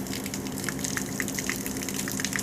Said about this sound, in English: turn the pump on, and see if we have any leaks before we bolt it all in